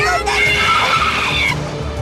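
Car tires skid and squeal loudly in a screeching chase, a sustained high whine with engine roar beneath, lasting about a second and a half before easing off.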